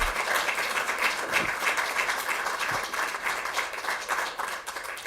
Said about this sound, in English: So let's give them one more round of applause for being here and standing strong and bold.